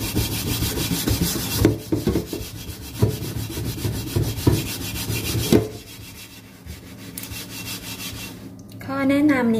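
A sponge with scouring powder scrubs a stainless steel pan in repeated close, gritty rubbing strokes for several seconds, then pauses, and a brief voice comes in at the end.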